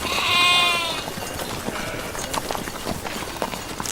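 Goats bleat in a short burst near the start of an animated scene about scattered herd goats, followed by busy farmyard rustling and light hoof-like clatter.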